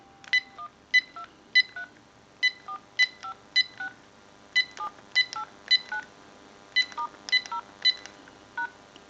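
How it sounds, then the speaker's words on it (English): A General Electric 6.0 27909 cordless telephone being repaired sends a long run of DTMF dialing tones, short clear beeps in an even, regular rhythm with brief gaps, loud and isolated. "We're going to dial our numbers."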